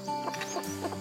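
A brood hen raising young pheasant chicks clucks in a low, steady run of soft calls, close by and moderately loud, with faint background noise.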